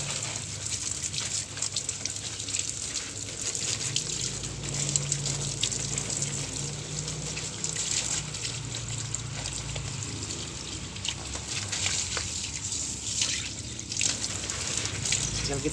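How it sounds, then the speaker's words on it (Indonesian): A hose sprays water onto a potted peace lily, a continuous gushing and splashing stream heard fairly close throughout, with faint background noise and no talking. "Kita siapkan selangnya, kita siram"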